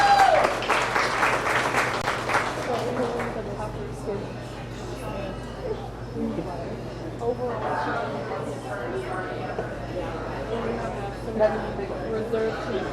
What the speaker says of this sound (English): Let's give a round of applause to our rate of gain winners.